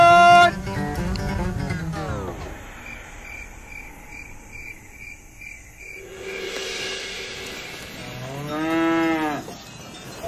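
Cattle moo loudly in an outdoor setting, two long drawn-out calls separated by a quieter stretch filled with chirping insects and brief human voice sounds.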